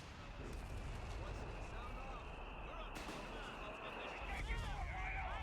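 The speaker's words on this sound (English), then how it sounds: "Oh, the mortar's starting to hit, which is good." Mortar shells explode during a US Forces battle in the Company of Heroes 3 video game, a dense, continuous rumble of blasts and gunfire with game voices over it.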